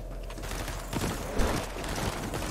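Gunfire rattles at players in a video game, fairly faint bursts of shots in quick succession heard at a distance under a steady background, with no voices present.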